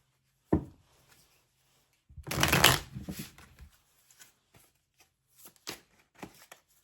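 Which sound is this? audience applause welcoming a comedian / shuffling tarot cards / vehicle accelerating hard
shuffling tarot cards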